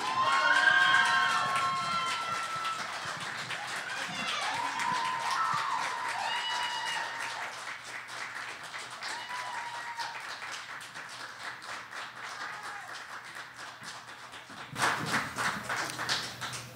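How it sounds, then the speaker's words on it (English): An audience at a poetry slam in Dayton claps and cheers, loud at first and gradually thinning, with shouts and voices mixed in and a brief louder burst near the end. "So please, give a huge round of applause."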